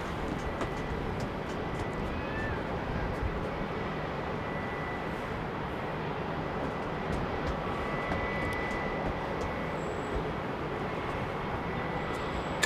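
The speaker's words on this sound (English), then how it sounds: "Fast taxiing Emirates 777." Emirates Boeing 777 fast taxiing at London Heathrow Airport, a steady broadband engine roar holding at an even level throughout, with a faint high whine over the rumble.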